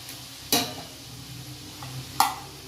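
Murukku dough is dropped into a pan of hot oil in a home kitchen, giving a soft steady sizzle that is broken twice by sharp, close splashing clatters.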